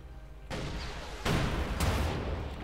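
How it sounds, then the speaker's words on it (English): Rocket launches and heavy tank cannon fire from a Kettenwerfer and a Panther in the Company of Heroes 2 battle game, loud booming blasts that build into a sustained roar with a second sharp surge, no talking. "Kettenwerfer and Panther firing there."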